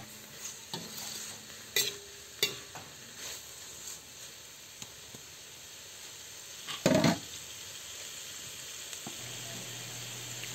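Bitter gourd, pork and chili being stirred in a pan, with a low sizzle under scattered spatula scrapes and knocks, one louder clatter midway, fairly quiet overall.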